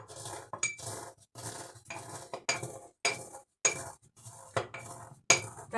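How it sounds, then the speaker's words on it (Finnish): Dried basil crushed with a pestle in a small mortar handed down from a childhood home, heard as a series of short, close scraping and knocking grinds at a steady pace, each stroke clinking slightly, with no talking. "Niin mä saan ne täällä vielä pienemmäksi tässä tämmöisessä morttelissa tai huhmareessa."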